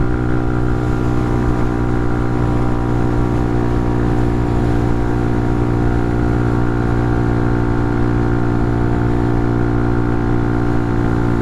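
A Hawk 250 motorcycle engine pulls hard in fifth gear while riding uphill at around 7,500 rpm, a loud, steady buzzing drone with strong harmonic tones, sustained and close throughout.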